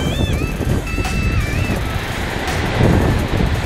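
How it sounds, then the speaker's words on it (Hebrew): Stormy seawater nearly a metre high surges and crashes over the reefs on an open coast, a loud, continuous roar with wind buffeting the microphone and occasional high squeaky tones over the top. "איזה ים סוער."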